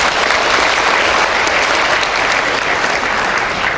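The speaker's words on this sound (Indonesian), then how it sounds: "Tepuk tangan untuk kita semua." Thunderous applause fills a hotel hall at a college graduation ceremony, a dense, continuous roar of many hands clapping, loud and steady from start to finish with no voices on top.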